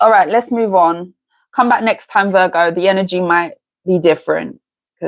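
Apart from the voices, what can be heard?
None of the usual background noises is heard.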